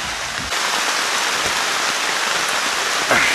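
Heavy rain pours steadily over a forest camp in Kalimantan, drumming on a flysheet with a dense, unbroken hiss that stays loud and close throughout, with no voices.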